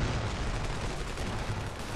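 A battle in the game Ravenfield fills the air with dense, continuous gunfire and explosions, a loud wall of crackling shots and rumbling blasts with no pause.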